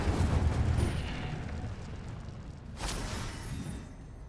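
A fiery spell burst from the Incendio charm in Hogwarts Legacy, a loud rumbling whoosh that swells at the start, eases, then flares again briefly partway through, with no talk over it.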